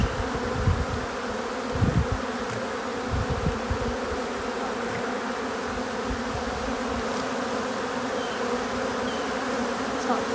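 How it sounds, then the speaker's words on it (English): A dense, steady buzz of many honey bees swarming close around a hive in a beeyard in early fall, continuous and droning with no voices. "And there's so many bees"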